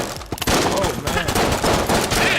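Rapid bursts of automatic gunfire in an online video game, loud and dense throughout, with players talking over the shooting.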